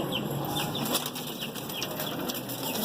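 Pigeons flap their wings in a few quick bursts near the listener, set against a steady high hum and faint bird calls, with no talking.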